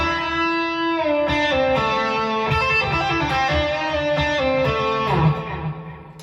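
An electric guitar with light overdrive from a Peavey Vypyr X2 amp rings out in a run of sustained, gritty chord changes, close and steady, ending in a brief swell before fading.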